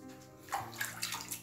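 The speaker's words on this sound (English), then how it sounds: "Now, we're going to get that rinsed off, see how we did." Running water rinses shaving soap off a face and razor during a wet shave, a short splashing, gushing stretch of about a second and a half with small bursts of spray, heard close and alone.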